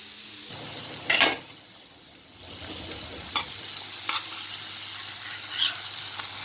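Surmai fish fries in a hot pan with oil, a soft continuous sizzle broken by a few sharp scrapes and clinks of a spatula against the pan.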